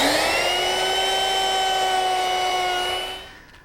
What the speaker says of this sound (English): I'm starting out with a 1/2 inch radius bit to do the ends of the cleats.